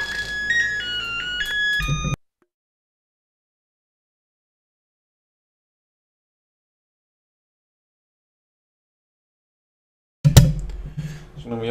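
A phone ringtone plays a short melodic tune for about two seconds, then cuts off into a long silence before other sound returns.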